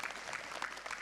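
Brief burst of audience applause from women at an Islamic pregnancy talk, soft and somewhat distant, a dense patter of many hands.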